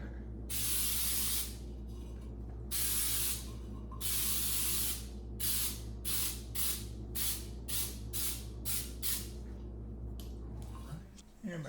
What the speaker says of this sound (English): So I'm going to go ahead and spray that